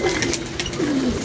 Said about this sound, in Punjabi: ਬਾਅਦ ਚ ਕਬੂਤਰ ਗੁੜਕਦਾ ਬੜਾ